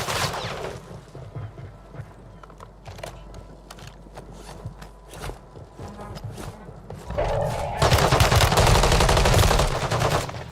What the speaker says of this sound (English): Somebody's shooting you.